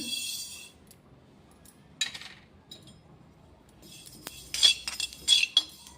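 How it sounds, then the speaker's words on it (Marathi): Sesame seeds being dry-roasted in a pan over low heat, with light metallic scraping and clinking of a spatula against the pan in short scattered bursts, near and fairly quiet with pauses between strokes. "आपल्याला कमी गॅसवर असं ते भाजून घ्यायचे"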